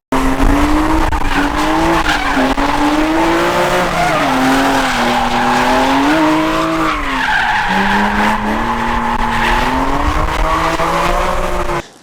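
A race car lapping hard while filmed from another car, its engine note rising and falling continuously with tire squeal and skidding, loud and close for the whole stretch.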